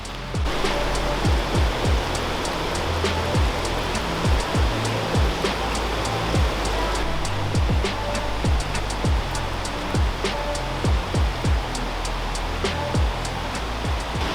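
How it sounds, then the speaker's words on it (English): Deception Falls roars continuously, a thick, steady rush of falling water with a faint wind-buffeted rumble underneath. "Hopefully you can hear me over that giant waterfall we're about to get a shot of."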